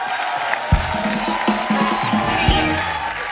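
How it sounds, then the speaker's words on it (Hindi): A studio audience claps and cheers loudly for the Shark Tank panel, dense applause mixed with shouts and whoops, with a few heavy thumps underneath. "एक बार जोरदार तालियां हमारे शार्क्स के लिए।"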